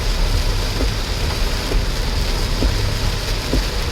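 Steady heavy rain pours around a moving car on a forest road, a loud even wash of noise with a faint engine rumble and occasional sharper drop ticks.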